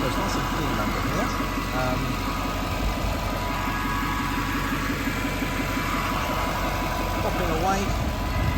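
A supercharged 2002 Jaguar XKR convertible engine runs steadily at idle, a loud, close, continuous mechanical drone with faint popping and no speech over it.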